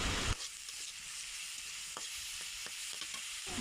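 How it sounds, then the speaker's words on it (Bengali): Onions stirred and frying in oil in a wok give a steady, close sizzle, broken by several light scraping clicks from the stirring, with no voices. "কড়াইয়ের মধ্যে পেঁয়াজ আর তেল দিয়ে একটু ভালো করে নাড়াচাড়া দিয়ে নিব"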